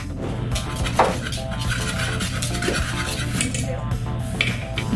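Dry rice pudding ingredients with ground cinnamon being stirred in a bowl, a continuous close scraping and rubbing with occasional clinks of utensil on the dish.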